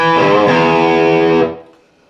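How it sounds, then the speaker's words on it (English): Distorted electric guitar plays a single sustained lick from a song, a thick chord-like tone ringing loud for about a second and a half before cutting off into quiet. "And then you'll hear this lick."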